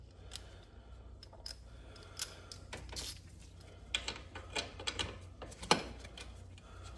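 A ratchet turns as it loosens the 10 mm bolts holding an HKS intake on a Suzuki Jimny, giving scattered close clicks and clacks of the mechanism with a louder sharp snap near the end and no talk.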